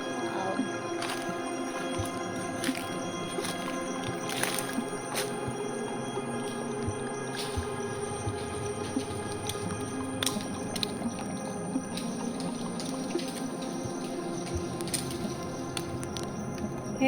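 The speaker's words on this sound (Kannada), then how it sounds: "ಹೇಗೆ ತರಗೆಲೆ ಬೀಳ್ತಾ ಉಂಟಲ್ಲ." Dry leaves pattering and crackling down from a forest tree after a rope is tugged, a dense, steady rustle close by with scattered sharper ticks throughout.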